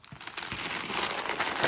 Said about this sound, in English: I have everything in a plastic bag here